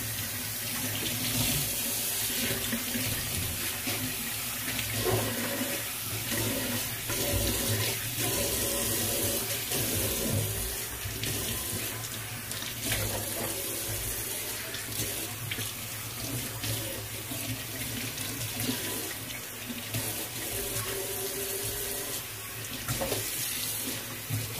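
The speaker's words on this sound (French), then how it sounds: "Après, vous rincez." Tap water running into a sink being rinsed during home cleaning, a continuous splashing hiss that flows steadily throughout with small variations, close and fairly loud.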